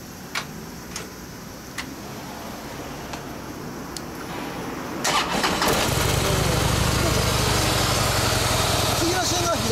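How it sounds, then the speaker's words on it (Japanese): A stock 2014 Harley-Davidson FLSTC Heritage Softail with a 1580 cc engine sits quietly with a few faint ticks, then cranks and fires midway into a loud, rumbling idle. People talk nearby. "いやいや、ドノーマルでもハーレーはいかつい音するから。"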